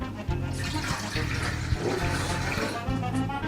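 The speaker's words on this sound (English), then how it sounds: "first thing we need to do is pour the coconut water to the wok" Coconut water poured into a wok for a coconut pudding, a continuous splashing, gushing pour that runs steadily for a few seconds at close range.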